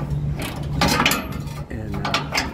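Metallic ratcheting and clanking close up as a wrench loosens a bolt, the part settling down onto a jack, with continuous mechanical grinding and scraping throughout.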